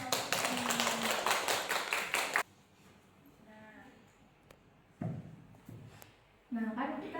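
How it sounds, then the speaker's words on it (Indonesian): A class claps for a teacher, dense applause filling the first two and a half seconds before cutting off, followed by quiet room noise, a couple of thuds and a burst of nearby talk. "Tepuk tangan buat Bapak."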